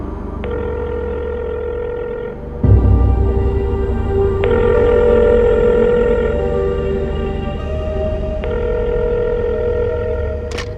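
An electronic phone ringtone plays steadily, a melodic tone sequence repeating with sharp onsets every few seconds, loud and close, with no talking.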